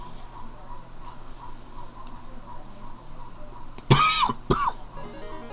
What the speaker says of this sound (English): I'm still not over this cough yet